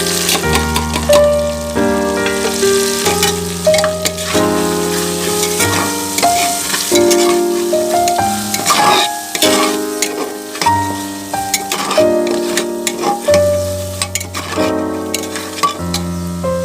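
Spices fry in hot oil for a dalia khichdi, a continuous crackling sizzle with stirring, set against steady background music that rises and falls throughout.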